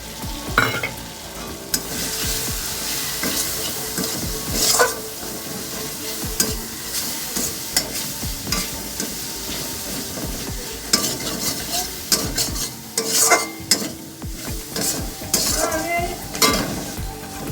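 Ground coriander and cumin stirred and fried in a pan for a vegetarian potato-paneer curry, with a steady close sizzle and repeated scraping spoon strokes throughout.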